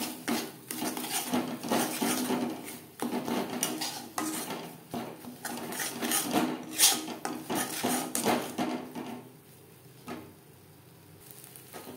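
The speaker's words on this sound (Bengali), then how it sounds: "তিন চার মিনিট মিডিয়াম ফ্লেমে নাড়াচাড়া করে নেওয়ার পর দিয়ে দেব ছোট 1 চামচ ভাজা মশলা।" A spoon scrapes and clanks against a wok as a vegetarian stuffing for spiny gourd is stirred over a medium flame, in irregular bursts of metallic knocks that fade to quieter scraping near the end.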